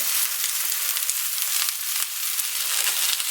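Steak and spinach fry in a pan with a close, continuous bright sizzle and crackle, steady throughout with small popping flickers, no voices.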